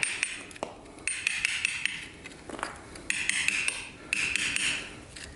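Repeated sharp metallic hammer knocks and impacts during renovation demolition, irregular and fairly close, scattered across the clip with clattering debris between blows.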